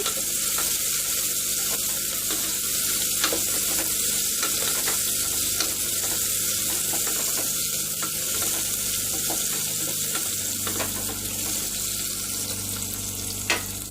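Mustard seeds, urad dal and curry leaves stirred in a pan while making a traditional moringa leaves curry, giving a steady, continuous sizzle with faint scraping throughout and no talking.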